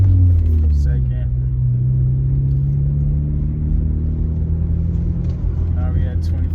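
A sixth-generation Chevrolet Camaro with a manual gearbox driving slowly around a parking lot, its engine a steady close low rumble that rises and falls in pitch through a gear change.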